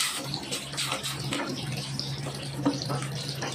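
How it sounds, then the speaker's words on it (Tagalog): Water pours steadily into a cooking pot for a mackerel fish stew, a continuous close splashing rush that lasts the whole moment without talk. "Then, lalagyan natin ang water guys."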